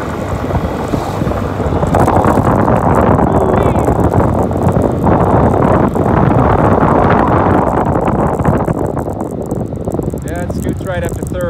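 Kymco Bet and Win 250 scooter with a 250 engine riding up a street, its loud continuous engine drone mixed with heavy wind rush across the whole stretch, with brief talk near the end.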